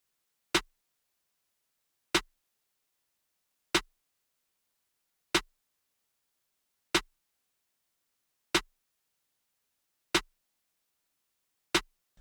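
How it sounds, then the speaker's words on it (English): Snare drum sample from a trap beat with no effects, eight sharp cracks hit at an even slow pace, each short and crisp, played alone with silence between. "Then we move on to the snare,"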